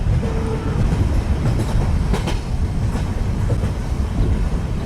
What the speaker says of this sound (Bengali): ট্রেন স্টেশনে এসে থামল।